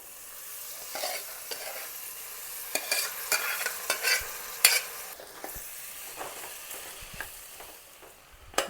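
A spoon scrapes and stirs boiled green gram into a pan, with irregular clacks over a soft background sizzle; no voices.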